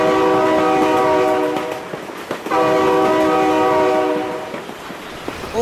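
A train passes close by sounding its horn in two long, loud blasts, with a brief break between them and rumbling rail noise underneath.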